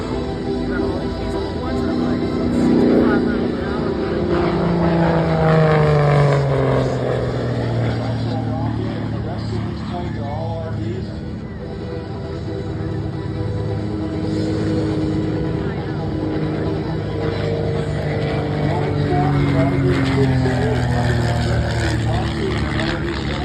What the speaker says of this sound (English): You can see the difference in speed between the various aircraft.